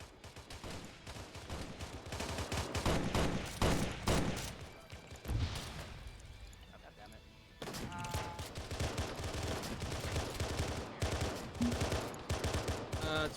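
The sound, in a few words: gunfire in video game Arma OPTRE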